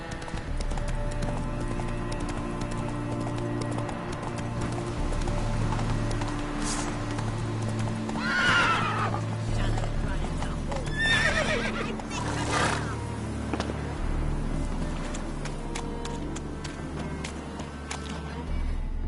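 Roach, a horse in the Witcher 3 video game, gallops with rapid rhythmic hoofbeats and lets out a couple of loud neighs partway through, over a low ambient game soundscape.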